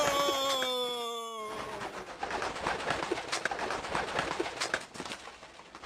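A cartoon pigeon coos in a short wavering call at the start, then a long stretch of breathy, rushing noise follows, loud and close with no speech.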